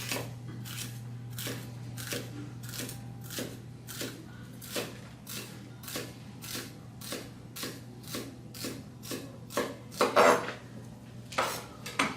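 A kitchen knife held at a 45-degree angle slices food on a cutting board while preparing Vietnamese dishes, giving a steady run of crisp, evenly spaced taps close by, with a constant low hum beneath and no talking.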